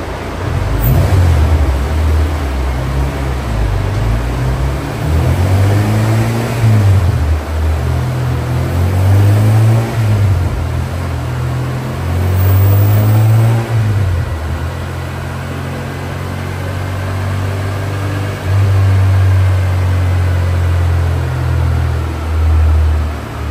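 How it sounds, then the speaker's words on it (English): A Honda K24 engine fitted with a 50-degree VTC cam gear runs loud and sustained on a dynamometer, its droning tone rising and falling through several revving pulls over constant mechanical noise. "Why don't we cut to the shots of the dyno pulls"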